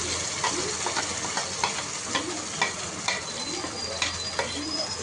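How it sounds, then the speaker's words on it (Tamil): Ground paste sautés with onions in an oil pan for a Karnataka-style fish curry. A quiet, steady sizzle runs throughout, broken by regular light stirring scrapes of a utensil against the pan. "அதில் ஊற்றிட்டு நல்லா வதக்கணும் ஃப்ரெண்ட்ஸ்"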